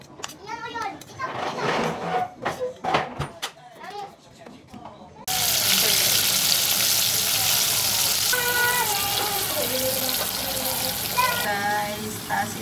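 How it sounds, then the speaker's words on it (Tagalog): Jollibee-style chicken pieces are double fried in hot oil for crispness, a loud, steady sizzle that starts partway through after children's voices and keeps going, with talk over it. "tapos i-double fry ko siya para crispy"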